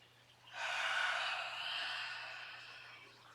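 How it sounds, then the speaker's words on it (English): A single deep in-breath taken during a breathing meditation, drawn in steadily for a few seconds and then slowly tapering, close and fairly soft over a faint low hum, with no talking. "Pause and then in-breath."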